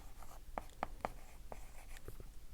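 Pen strokes on paper while taking notes: a few quick scratchy marks in a short cluster, then lighter scattered strokes, close and fairly quiet with no talk.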